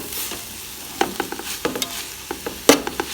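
Chicken fried rice is stirred in a hot pan as it sizzles, a low steady hiss punctuated by irregular scraping and clanking strokes of a utensil, close up.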